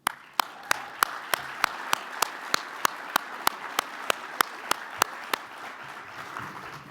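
An audience on stage welcomes two speakers with steady, evenly spaced claps in a quick regular rhythm, crisp and moderately distant over a low room hiss.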